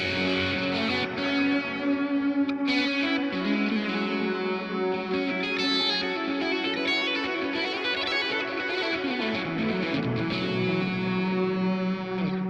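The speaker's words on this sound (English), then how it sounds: "Tube overdrive, obviously many things have this" Fender Tone Master Pro modelling unit running a tube overdrive effect on electric guitar, a continuous gritty, saturated chord and riff passage with sustained distorted notes throughout, played alone without talk.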